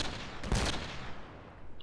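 A single SKS rifle shot in Battlefield Play4Free cracks out loud and close, followed by a short rolling echo with no voices over it.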